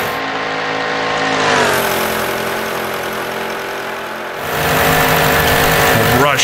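The Dick Seaman Special, a 1927 race car in Assetto Corsa, revs hard near 7,500 RPM. Its loud, buzzing engine climbs steadily, dips briefly at a gear change, then surges again, close and continuous.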